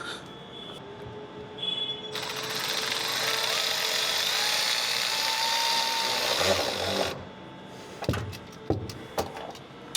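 A power driver with a 7mm socket runs steadily for several seconds, tightening a hose clamp over a fuel hose on a barb during a 50-gallon fuel tank install on a Dodge Ram Cummins 6.7L truck, followed by a few sharp clicks and knocks.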